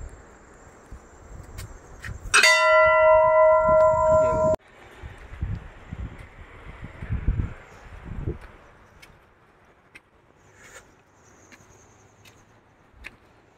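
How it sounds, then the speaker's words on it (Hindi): A single bright bell at a Radha Krishna temple in India is struck once and rings with a sustained metallic tone before being cut off, surrounded by footsteps and outdoor background noise. "तो घंटी बजा लेते हैं।"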